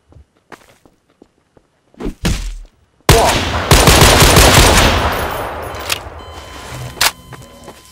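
AK rifle gunfire in the video game Garry's Mod: a few scattered soft taps and short bursts, then loud sustained automatic fire with sharp repeated shots that tails off near the end.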